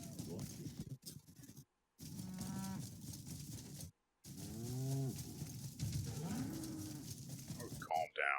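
Cow mooing in Crimson Desert, with several drawn-out moos over ambient game sound and faint talk, broken by brief silent gaps.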